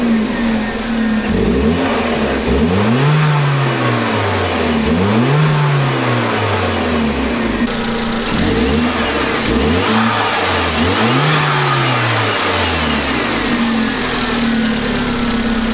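Repeated rev blips from a turbocharged 2.0-litre Hyundai Genesis Coupe 2.0T engine on its stock air intake, each rise and fall in pitch distinct and close by, over a steady idle with no talking.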